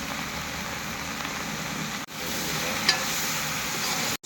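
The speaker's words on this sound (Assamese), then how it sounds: "ধুনীয়াকৈ ভাজিছোঁ" Vegetables, including taro, potato and sweet potato, fry in a pan with a steady, close sizzle. The sizzle cuts out briefly partway through, and one small crackle stands out.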